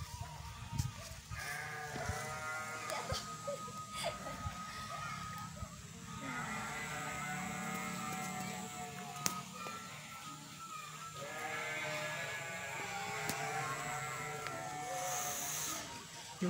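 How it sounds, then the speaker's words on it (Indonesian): Sheep bleat again and again at a moderate distance, their wavering calls overlapping through a steady outdoor background, while someone nearby talks now and then. "Ada suara domba guys di sini mah komplit."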